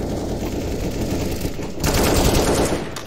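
Rapid automatic gunfire in the game CS:GO, a dense, continuous burst of shots that grows louder and more intense partway through, with no talking.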